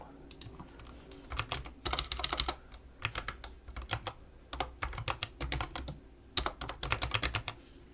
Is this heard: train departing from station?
no